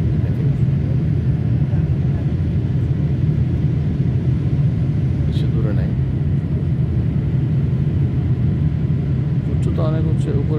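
Inside an airplane descending toward Rome airport, a loud constant low cabin engine rumble drones throughout while someone talks over it.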